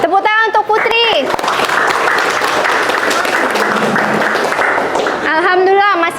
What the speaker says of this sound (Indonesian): Oke, tepuk tangan untuk Putri.